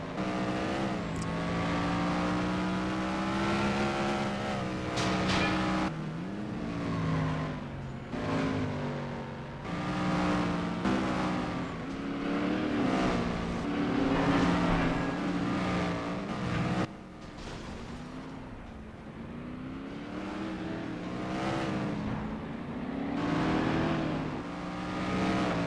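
Race car engines in the PS2 racing game FlatOut 2 during a street-class event with a Mustang-like pony car, revving and shifting gears repeatedly, pitch climbing and dropping with each gear change, loud and continuous.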